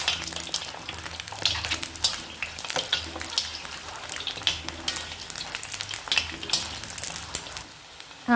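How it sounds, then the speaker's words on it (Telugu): Eggs fry in hot oil in a pan until golden while being prepared for an egg curry, with a steady, close crackling sizzle and bursts of spattering throughout, growing louder at the very end. "గోల్డ్ కలర్ వచ్చే వరకు వేయిద్దాం ఈ గుడ్లని"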